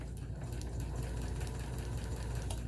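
A Kenmore Sensor Sew 70 sewing machine stitches in a fast, even mechanical rhythm, running continuously and close up with no voices.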